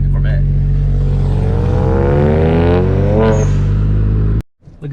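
Loud, close engine roar from a BMW 335i with an N54 engine and big turbo, rising in pitch through a hard rev, then cutting off abruptly near the end with a brief burst of noise after.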